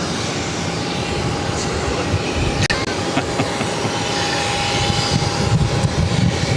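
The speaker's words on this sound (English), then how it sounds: "Next arrival on runway 27 is Virgin Atlantic Flight 157 coming in from London Heathrow on the A330-300." Steady, broad engine roar of a Virgin Atlantic Airbus A330-300 arriving on runway 27, a continuous rumble that neither rises nor fades much, with no talk over it.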